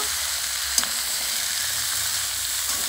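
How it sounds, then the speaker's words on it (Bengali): Pumpkin, potato and papaya with a katla fish head are tossed into hot oil in a home kitchen, making a loud, continuous close-up sizzle with a single sharp clink from the spoon. "এবার তেলের উপর দিয়ে দেবো। দিয়ে কিছুক্ষণ নাড়াচাড়া করে ঢাকা দিয়ে রেখে দেব।"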